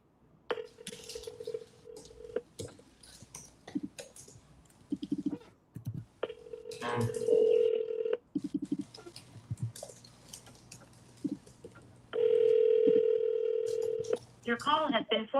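An outgoing phone call places a few dial tones and then sustained ringing tones repeating at intervals, while people talk quietly around and between the rings.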